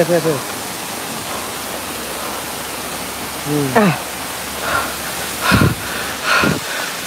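A waterfall roars as a constant broadband rush, with voices talking briefly over it at intervals.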